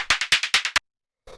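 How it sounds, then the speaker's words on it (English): A short noise-percussion layer from a techno beat: about seven quick, bright hissy hits in a fast even run, the last one slightly louder, then a pause and one softer hit, with no voices. "the last layer here is this little noise percussion"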